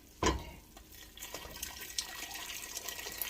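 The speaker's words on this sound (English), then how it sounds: "And to this, we're going to add water." Water poured into a cooking pot for chicken and dumplings, a soft continuous splashing and trickling after an initial thud, fairly quiet with no talking.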